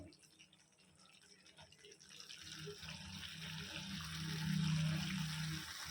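Water pours steadily into a pan of masala chicken cooking on high flame, swelling louder as it runs, with a faint sizzle and kitchen clatter underneath.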